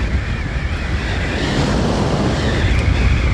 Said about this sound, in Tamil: எதிர்காற்று ஓவராக இருக்குதுடா.